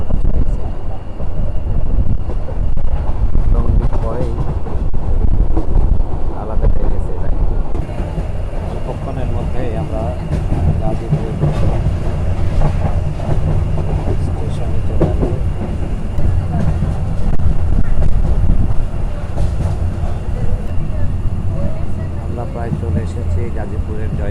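The Rangpur Express rolls along the rails with a continuous heavy rumble and rattle of the carriages, steady and loud throughout, mixed with buffeting wind.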